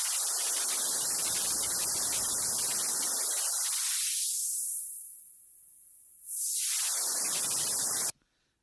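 Broadband static-like noise through a high-pass filter in Pro Tools, lows cut so only hiss remains, with the filter sweeping up to a thin bright band and back down before stopping abruptly.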